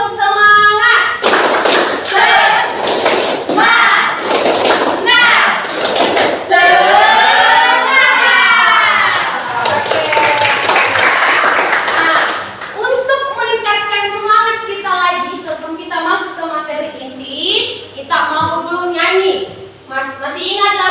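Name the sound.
children doing the tepuk semangat clapping chant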